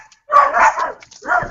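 Dogs bark outside in two short, fairly loud bursts close together, with no talk over them.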